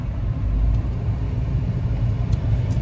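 Inside a moving car, a low, steady road rumble and engine drone stay continuous throughout. There are a few faint ticks and no talking.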